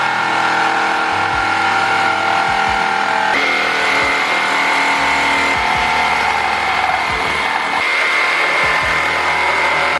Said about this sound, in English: And the saw I'm gonna use for this is a jigsaw.